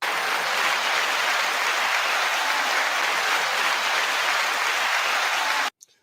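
Steady, dense crowd-style applause plays at a loud, even level for nearly six seconds, then cuts off abruptly into silence with a faint trailing click.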